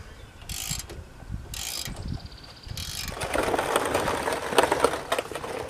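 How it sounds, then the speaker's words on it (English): Ratcheting wrench clicks in short bursts while a bolt is tightened into a Jeep XJ steering box, followed by denser clattering mechanical ratchet and metal handling up close. "with a little extra persuasion of a wrench, it goes in there no problem"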